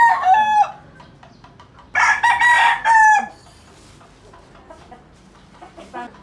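A Brown Gray bloodline gamefowl rooster crows loudly and close by, two full crows separated by a brief pause, with faint clucks in the background.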